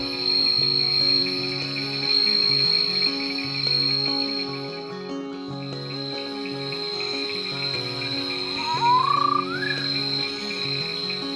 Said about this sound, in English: The recently described Kumbara night frog.